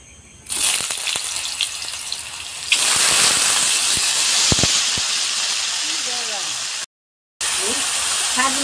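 Vegetables frying in a pan for a Bengali prawn and ridge gourd dish, with a loud, steady sizzle and hiss that surges after the first few seconds, cuts out briefly near the end, then resumes.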